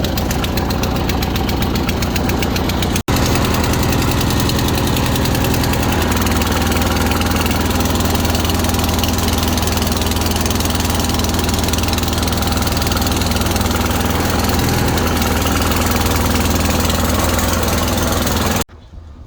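An MTD opposed-twin engine on a scratch-built mud mower runs loud and steady, a constant throbbing drone that holds close for most of the span before cutting off at the end.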